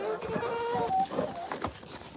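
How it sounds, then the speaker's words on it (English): Chickens cluck softly in a barn on a winter night during farm chores, a few short calls over a quiet, steady background. "Good night, chickens."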